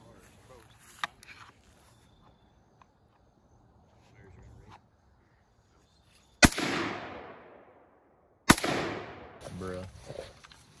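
Two sharp, loud gunshots a couple of seconds apart, each followed by a long echoing decay outdoors, after a quiet stretch of low ambient noise.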